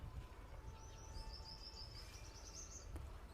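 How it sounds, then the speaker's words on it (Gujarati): Small birds chirp in a sustained high trill at a shelter where water pots are set out for birds and squirrels, faint and steady over a low rumbling background. "આજે પક્ષીઓનો કલરવ છે સાંભળીએ તોય આપણને આનંદ આવે"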